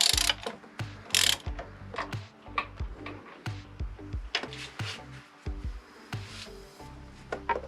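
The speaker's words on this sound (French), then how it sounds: "Allez, on va pouvoir desserrer." Ratchet wrench clicking steadily while loosening an engine mount nut on a BMW E46 330, a run of close, crisp pawl ticks in short repeated strokes.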